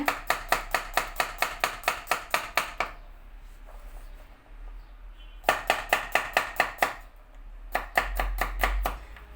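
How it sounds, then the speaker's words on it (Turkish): A knife slicing garlic thinly on a cutting board makes two runs of quick, even, sharp chops close by, separated by a short quiet pause. "Sarımsaklar da ince ince dilim şeklinde."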